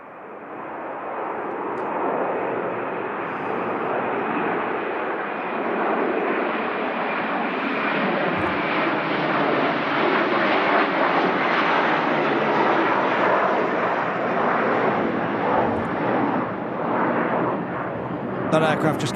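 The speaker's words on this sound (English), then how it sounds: "Turkish Airlines Airbus A321 opting to do a go around there" A Turkish Airlines Airbus A321 jet flying a go-around at Manchester Airport in strong gusty wind, a loud sustained engine roar that builds and holds steady throughout with a broad rushing rumble, heard close and without talk.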